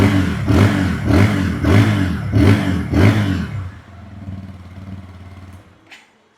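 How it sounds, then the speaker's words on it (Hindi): A black 2026 TVS Apache RTR 160 2V motorcycle, self-started, gives five loud, rhythmic throttle blips close up, then drops to a lumpy idle before the engine cuts off. "यहाँ पे मैं आपको सेल्फ स्टार्ट करके साउंड सुनाता हूँ।"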